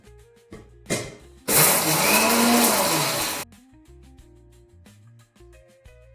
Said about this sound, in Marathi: आता हे मिक्सरमधून ओबडधोबड फिरवून घेते